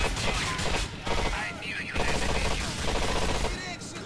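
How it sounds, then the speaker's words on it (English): Rapid, dense gunfire in GTA IV: The Ballad of Gay Tony, a continuous loud clatter of shots that persists through the clip with brief dips, close and without talk. "I'm shooting you so many times."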